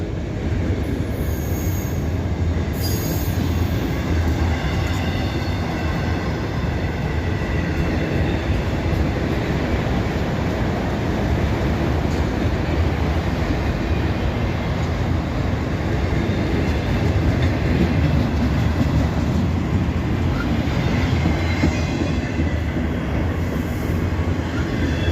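Freight cars, including triple-decker and double-decker automobile rack cars, roll steadily past close by, producing a loud, continuous rumble with clattering wheels and occasional high wheel squeal, and no talking.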